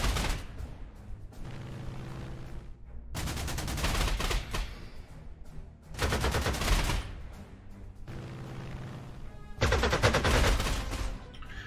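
Sustained gunfire from the World War II strategy game Corps 2: repeated loud bursts of rapid fire, roughly four long volleys separated by brief pauses, dense and close with no talk.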